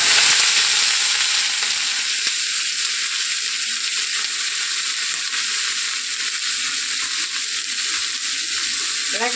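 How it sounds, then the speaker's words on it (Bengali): Whole cumin seeds and dried red chillies crackle and sizzle continuously in hot oil for a simple cabbage dish, with a dense, steady hiss close up that stays loud from start to finish. "শুকনো লঙ্কা আর গোটা জিরে ফোড়ন দিয়ে দেবো। তারপরে বাঁধাকপিগুলো দিয়ে দেবো।"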